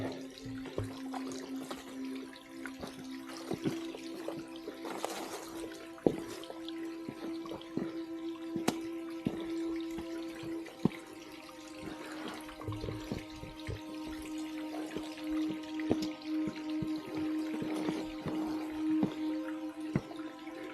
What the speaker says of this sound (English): Water's been flowing here for a long, long time.